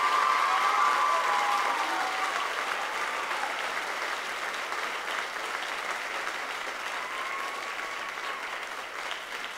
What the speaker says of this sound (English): one more round of applause for these great performers